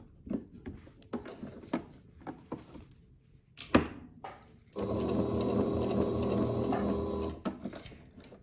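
A sewing machine stitches a pant pocket seam, running steadily for about two and a half seconds, close and even, after a string of fabric-handling clicks and taps.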